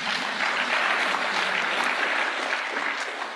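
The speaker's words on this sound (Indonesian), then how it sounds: "Tepuk tangan dong ini." Audience in a hall applauding during a commemoration of the Aceh tsunami, a dense, steady wash of clapping that holds evenly for a few seconds before easing slightly.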